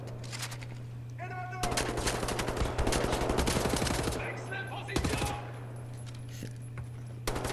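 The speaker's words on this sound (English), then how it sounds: "Dual wield pistols." Gunfire from dual-wielded pistols and automatic weapons in the shooter Wolfenstein: The New Order, dense bursts of rapid shots in the middle of the clip, loud and close, backed by a steady game hum.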